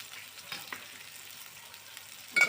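A vegetable being sautéed with turmeric and red chili powder for a Maharashtrian val bhaji, a soft low sizzle with a few stirring scrapes and a brief louder clatter near the end.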